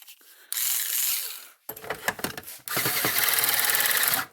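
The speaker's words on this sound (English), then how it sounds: "let me get my screw gun here and we'll put it on slow speed" Cordless screw gun spun at slow speed while testing and repairing an O'Brien's 16/110 electric fence charger, a steady motor whine starting in short bursts and then running continuously, close and fairly loud with no talk.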